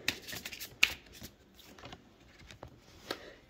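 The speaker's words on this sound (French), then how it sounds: "Je suis en train de prendre les cartes là. Allez, je tire les cartes devant vous." Tarot cards being shuffled and drawn by hand, a few soft riffling and flicking bursts with one sharper snap near the start, close and quiet with no talking.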